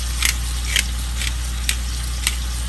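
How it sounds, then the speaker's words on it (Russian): Seafood frying over high heat in an uncovered pan for paella, a steady soft sizzle with a few brief crackling bursts spaced through it, close and alone with no talking. "мы жарим морепродукты"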